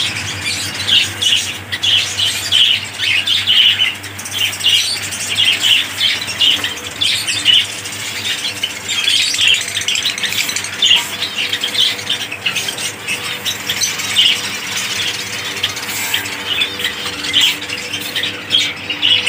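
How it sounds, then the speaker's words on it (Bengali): A caged Bengalese finch chirps and squawks in quick, repeated bursts, loud and close, with a continuous chatter of short calls throughout. "এটা বেঙ্গলি ফিঞ্চ"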